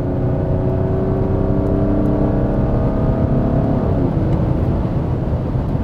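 A Mazda CX-60 diesel engine revs high and holds a loud, steady drone, its pitch easing slightly downward toward the end, with no voices.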